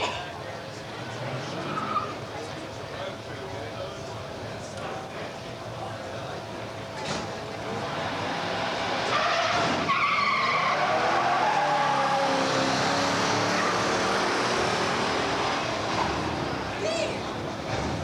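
Muscle cars at a 1985 drag racing showdown at Beech Bend, including a Pontiac and a 1970 AMC with a 390 and four-speed, roar past with squealing tires, a loud sustained engine rush under an announcer's commentary.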